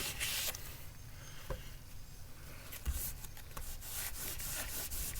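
A used book being lightly wiped clean, giving soft continuous rubbing and brushing strokes close up, quiet and gently rhythmic, with faint scuffs and taps.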